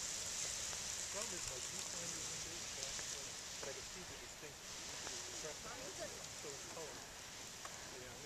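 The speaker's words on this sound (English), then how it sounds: "Here it's raining on us." Steady rain patters and hisses on surfaces nearby at White Dome Geyser on the Firehole Lake Loop in Yellowstone, a constant wash of drops with faint voices murmuring underneath.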